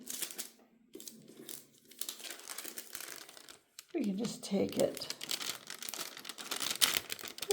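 Paper crumpling and crinkling as soil is cleared from a potted plant infested with fungus gnats, close, irregular rustles running under a person talking.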